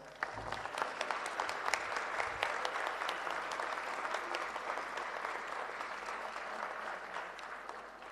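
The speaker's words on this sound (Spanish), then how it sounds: "los recibimos a todos juntos con un fuerte aplauso" Sustained applause from a large audience at a university anniversary academic ceremony, steady and loud throughout with dense clapping and no break.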